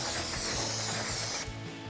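Brake rotor for a Mustang EcoBoost being cleaned with spray cleaner, a close hissing spray with ratcheting mechanical clicks underneath, ending abruptly partway through before quieter handling noise.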